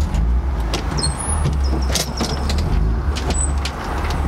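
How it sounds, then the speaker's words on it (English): Loud brakes on a Ford Explorer, heard from inside as a steady low road rumble with sharp high squeals and hissing bursts scattered through, no talking. "Oh my god, those brakes are loud."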